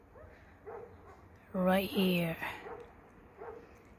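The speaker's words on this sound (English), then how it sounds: "Sorry about that barking noise that you can hear." A dog barks from near an apartment balcony, a short burst of loud, close barks with fainter yips before and after, while a person talks briefly.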